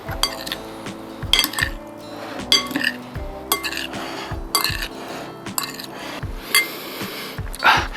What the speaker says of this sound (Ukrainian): Гарно перемішую все.